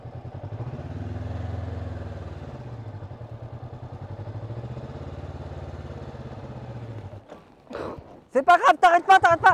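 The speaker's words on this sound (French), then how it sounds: "En freinant, tu demandes trop à la moto d'avancer" A motorcycle engine putters at low revs during a slow-speed A2 licence riding lesson, a steady near rumble that swells and eases twice before cutting off, followed by a voice speaking.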